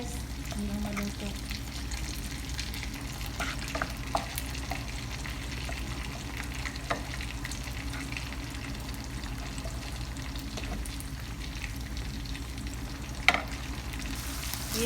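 Eggplant and tuna sauté in a pan with a steady, dense sizzle throughout, with occasional light clicks and one sharp utensil tap near the end, close and even in loudness.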